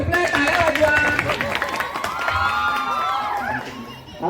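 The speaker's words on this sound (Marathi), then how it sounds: "मंडळी गाणं संपलंय, टाळ्या वाजवा." A school audience at a comic play claps and cheers after a song, a busy crowd of applause and shouts mixed with voices, close and lively throughout.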